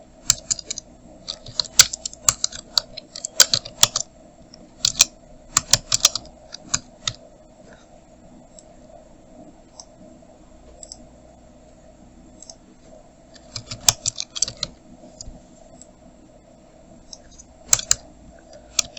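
Bursts of keyboard typing on a computer while working on a birthday banner design in Photoshop, quick clustered clicks separated by pauses over a steady low hum, no talking.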